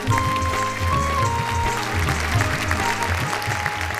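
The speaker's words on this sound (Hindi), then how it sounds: "जोरदार तालियां" Audience applause at a Hindi comedy and poetry show, a steady wash of clapping that stays loud and dense throughout with a faint musical hum beneath.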